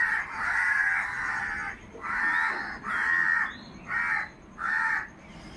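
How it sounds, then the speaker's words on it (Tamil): Crows cawing repeatedly in a series of harsh, loud calls with short pauses between them, fairly close, with no talking, at a village house in Kerala in the early morning. "காக்கா சத்தம் நல்லா கேட்குது."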